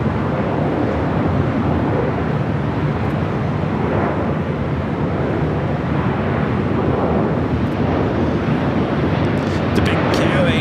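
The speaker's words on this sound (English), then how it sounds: "Got the Air France 777-300ER up next for takeoff." Air France Boeing 777-300ER jet rolling for takeoff at LAX, a steady broad engine roar with wind buffeting, loud and continuous throughout with slight swelling near the end.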